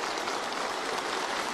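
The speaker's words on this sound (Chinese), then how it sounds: "全场响起热烈掌声" A whole hall of people at a Lunar New Year gathering of veteran comrades breaks into warm applause, a dense, even wash of clapping that holds steady for the brief moment.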